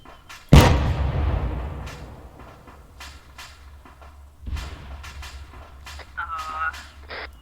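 A rocket launcher fires with a loud sudden boom in the Arma 3 military game, followed by a long decaying rumble and a second duller impact a few seconds later, with radio voices and faint beeps in the background.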